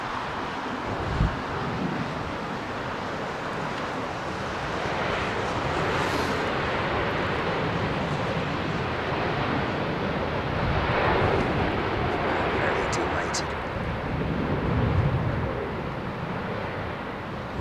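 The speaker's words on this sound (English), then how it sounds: "inboard reversers only on the engines. Could go quite loud." An airliner lands at London Heathrow using only its inboard engine thrust reversers, producing a broad, steady roar with heavy wind rumble that swells and ebbs over nearly twenty seconds.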